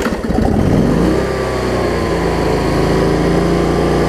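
Cub Cadet Z Force zero-turn mower with a Toro deck and a surging problem, its engine cranking briefly then catching and running at a loud, steady, droning idle close by.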